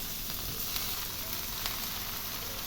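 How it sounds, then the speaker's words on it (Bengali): Vegetables, rice, lentils and spices fry together in a pot for a bhuna khichuri, giving a soft, even sizzle with faint stirring scrapes and no talking. "সমস্ত সবজি মশলা চাল ডাল একবারে আমি ভেজে নিলাম আবার একবার।"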